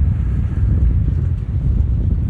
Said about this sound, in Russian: Сегодня море, видите, волнуется.